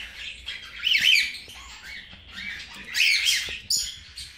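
Two pet birds, a lutino female and a yellow-faced harlequin male, squawk and chatter in harsh bursts, with louder outbursts around the first and third seconds, close to the microphone and with no talking.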